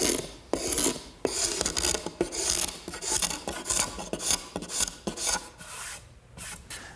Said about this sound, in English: The scraper is really the best way.